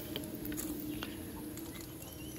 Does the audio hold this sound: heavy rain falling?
yes